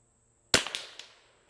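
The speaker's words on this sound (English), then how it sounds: "So we're just going to shoot a little bit here." A single sharp crack from a custom .22LR precision rifle, close by, followed by a short decaying echo with faint reflections trailing off.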